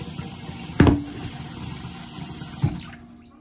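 Water runs into a pot of potatoes from a tap, a steady splashing wash close by with a couple of louder clunks and splashes.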